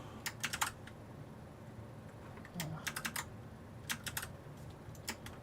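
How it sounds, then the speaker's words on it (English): Bursts of typing on a loud computer keyboard at a PC desk, quick clusters of sharp clacking keystrokes separated by short pauses over a quiet background hum. "In before Automatic Beats complains about how loud my keyboard is."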